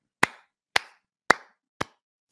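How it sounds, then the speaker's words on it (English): Four sharp hand claps, evenly spaced and fairly loud, with silence between them. "Let's give a man a clap"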